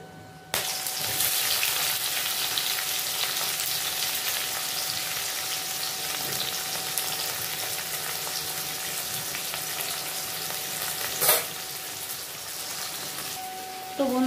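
Onions and tomatoes fry in oil tempered with cumin and whole garam masala for aloo dum, giving a steady, moderate sizzle throughout, with a brief clatter near the end.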